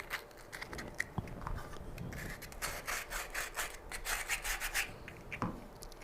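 Rolled sandpaper rasps against the corner of a small wooden cutting board in quick, uneven back-and-forth strokes, close and fairly quiet, with occasional light knocks.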